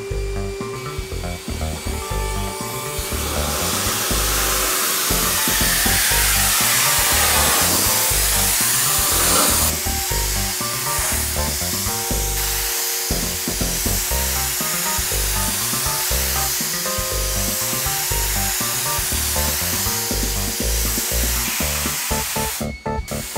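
A spray gun applying renovation coating material in a cone spray pattern, a steady loud hiss running almost the whole time, with brief breaks near the middle and the end.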